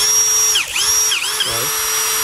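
A 10 mm brushless cordless drill, the 220 model, runs continuously with a loud, close whine that dips briefly in pitch twice as the load changes, with no talk.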